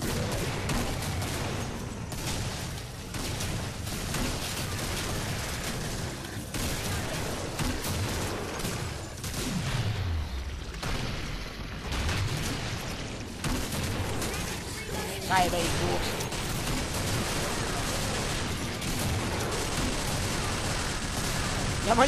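Gunfire in the game Killing Floor, a dense, continuous wash of shots and booms that stays loud throughout. A player's voice speaks over the firing.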